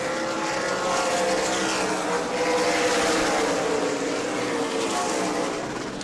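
Super Late Model race cars lapping the track at New Smyrna, their engines droning steadily and loudly throughout, with the roar swelling and easing slightly as cars pass.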